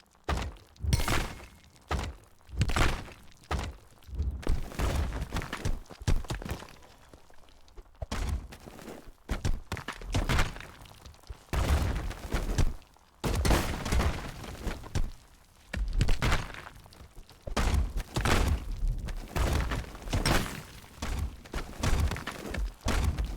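Explosions in the VR combat game RUMBLE: a steady series of heavy, punchy thuds and bursts arriving in quick irregular clusters, all loud and close, with brief pauses between volleys.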